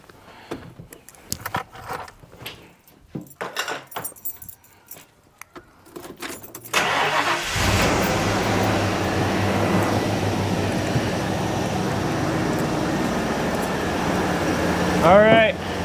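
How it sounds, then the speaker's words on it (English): After some rattling and handling noises, a truck engine turns over during an engine break-in and settles into a loud, steady idle rumble that continues to the end. "go ahead and fire your truck up so it's so we don't drain that too"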